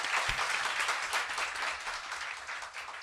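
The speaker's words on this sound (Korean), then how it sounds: "박수" Applause from a studio audience, a brief soft burst of clapping that stays fairly faint and even for a few seconds.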